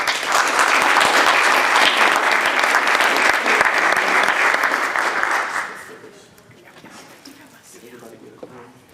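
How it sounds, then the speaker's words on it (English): Loud, sustained clapping fills a City of Waynesville, Missouri city council meeting for about six seconds, then quickly dies away into quiet room sound with faint voices. "let's give them another round of applause"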